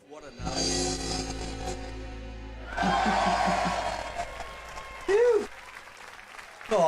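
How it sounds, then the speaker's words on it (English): An audience claps in a sustained wave, close and full, with a voice talking over it and a brief swell of cheering near the end. "extra special round of applause for you tonight"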